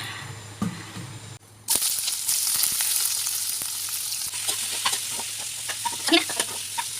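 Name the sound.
chutney ingredients frying in refined oil in a wok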